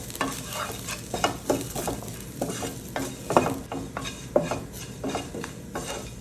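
Garlic chutney spices with chilli powder, salt and asafoetida stir and sizzle in a hot pan, with repeated scraping strokes at an uneven rhythm over a low, steady frying hiss.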